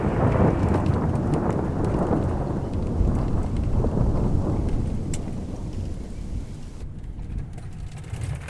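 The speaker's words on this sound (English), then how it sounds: "That there is what they call a Kansas storm." A Kansas thunderstorm: steady heavy rain drums on a surface while a deep thunder rumble rolls underneath, loud and continuous, slowly easing toward the end.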